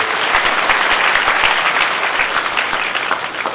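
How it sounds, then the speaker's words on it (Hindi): A gathered audience at a Hindu religious discourse on the Bhagwat claps loudly and continuously, close and dense, with no pause or talk over it. "इसलिए पहले तो ताली बजाओगे।"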